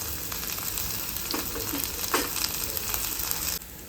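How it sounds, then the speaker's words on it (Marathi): Green chillies and curry leaves frying in hot oil with onions, a continuous close sizzle with a few soft stirring sounds, no voices. "हिरव्या मिरच्या पण छान परतल्या गेलेल्या आहेत तेलावरती"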